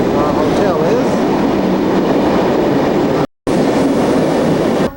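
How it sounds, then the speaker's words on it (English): A Sydney train rides from Circular Quay up to Wynyard Station, a steady loud rumbling roar from inside the carriage, broken by a brief dropout, with a voice talking partly over it. "we've just ridden the train from Circular Quay up to Wynyard Station"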